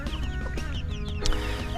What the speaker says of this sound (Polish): Rzucimy okiem, co porabiają kurczaki na wybiegu